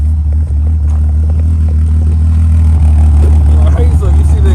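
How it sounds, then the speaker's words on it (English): Stock exhaust of a six-cylinder BMW 325i, a steady low droning note with idle-like rumble, loud and close from behind the car throughout. "Last thing we're gonna do is an exhaust note."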